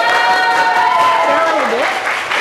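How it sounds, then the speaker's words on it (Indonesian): Applause from a classroom audience for a student group after a kolintang presentation, steady broadband clapping filling the moment with voices talking over it. "tepuk tangan untuk kelompok 2"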